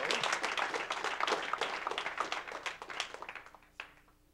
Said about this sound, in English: Come on, let's give him a clap.